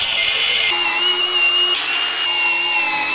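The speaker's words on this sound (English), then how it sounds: "Now you can see I can get my small socket in here and tighten those up." A power socket driver whirs steadily as bolts are tightened on a utility trailer being converted for kayaks, a continuous high whine with small pitch shifts as the load changes.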